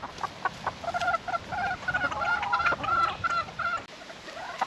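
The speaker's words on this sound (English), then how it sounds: "The roosters will always let the hens eat first." Chickens, roosters and hens cluck while eating at a tropical Far North Queensland home, giving close, rapid, overlapping bursts of clucking and short calls.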